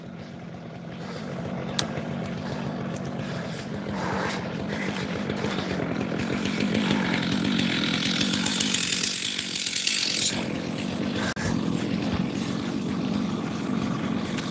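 A chainsaw runs continuously and loudly while cutting firewood for a firewood business in Oregon, its engine droning steadily close by with slight shifts in pitch as it works through the wood.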